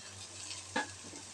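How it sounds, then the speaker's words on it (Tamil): Cooked rice tipped into a pan of fried mint and coriander, a brief soft scrape and thump over a steady low sizzle, close and short. "இந்த சாதத்தை இதில் நாம் இப்போ சேர்த்துக்கலாம்."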